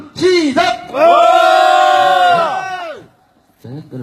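A crowd at the 597th Seongju candlelight rally against THAAD gives a loud, sustained collective shout, with one burst before it. The shout holds for about two seconds, then fades into a brief hush before voices return.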